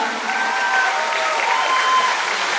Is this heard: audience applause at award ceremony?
yes